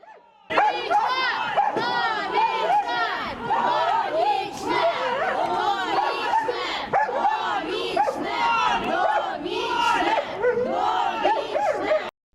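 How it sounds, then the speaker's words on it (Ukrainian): Crowd outside a courthouse in a Ukrainian murder case shouts and chants in loud overlapping voices, dense and continuous, with bursts of yelling rising and falling throughout. "Проводжають Зінченка до СІЗО вже традиційно під вигуки довічно з одного боку та волю з іншого"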